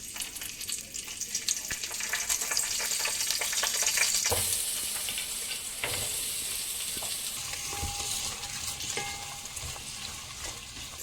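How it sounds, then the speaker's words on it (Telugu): Biryani spices drop into hot oil and fry, swelling into a loud, steady hissing sizzle close by that slowly eases over several seconds, with occasional faint clinks and no talking. "వేడైపోయింది కదా, ఇంక బిర్యానీ దినుసులన్నీ వేసేద్దాం."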